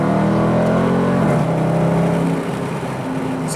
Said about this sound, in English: I'm going to drop down a couple gears, and then I'm gonna floor it now